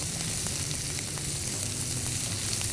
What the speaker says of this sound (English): next I'm going to add the finely chopped onions, and you want to just mix this up